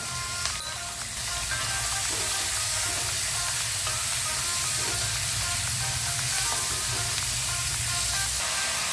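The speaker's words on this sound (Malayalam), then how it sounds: "അതുകൂടി ഇട്ട് കൊടുത്ത് ഇതിലേക്ക് അല്പം ഉപ്പും കൂടി ചേർത്ത് കൊടുത്ത് നമുക്കിതൊന്ന് വഴറ്റിയെടുക്കാം" Small onions with salt sautéing in a pan for Kerala-style beef perattu, a steady close sizzle and hiss with faint stirring scrapes, continuous throughout with no talk.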